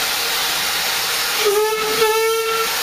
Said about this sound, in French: Instrument impossible à oublier dans une locomotive à vapeur, le sifflet qui est là